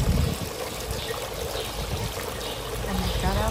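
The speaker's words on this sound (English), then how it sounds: "And they have their fountain set up, guys." A garden fountain set up on display at a Lowe's store trickles steadily, a soft continuous splashing wash with a faint voice somewhere in the background.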